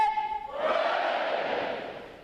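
Graduating U.S. Navy boot camp sailors roar a loud massed cheer in unison at their graduation ceremony, a swelling crowd shout that follows a single leading voice calling out.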